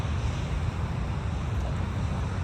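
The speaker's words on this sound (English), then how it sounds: "I think you can hear the waves as well" Steady broadband rush of ocean surf seen from a distance, continuous and fairly loud with no distinct individual wave breaks, mixed with wind buffeting the microphone.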